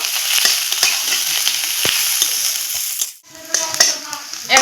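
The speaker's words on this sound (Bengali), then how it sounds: "এখন আমি লাল করে ভেজে নেবো" Oil sizzling and crackling steadily in a pan as chopped onion, ginger and garlic fry, with scattered pops and a short lull near the end.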